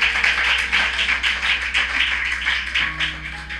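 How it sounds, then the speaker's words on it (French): Congregation clapping in praise of Jesus during a church service, a steady, dense run of many hands clapping together with no voices. "Clap for the Lord Jesus"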